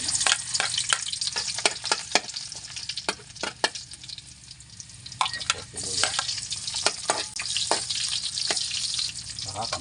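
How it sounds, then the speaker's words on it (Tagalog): Garlic sautéing in a hot pan, a constant bright sizzle and crackle with repeated sharp scrapes and clinks of a utensil stirring against the metal, close and alone without talk. "Ako po magigisa bawang."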